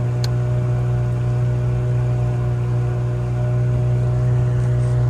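A Mercury 9.9 outboard motor with a charging voltage fault runs at a steady idle, a loud, constant low hum with a faint higher whine above it, no talk over it.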